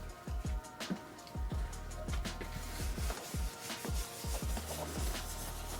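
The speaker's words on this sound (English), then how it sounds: "I'm going to wipe down the inside of this" Cloth wiping the inside of a Harley Road Glide motorcycle fairing, heard as close, repeated rubbing strokes in an irregular rhythm with soft scuffs and taps. The sound is fairly quiet and there is no talking.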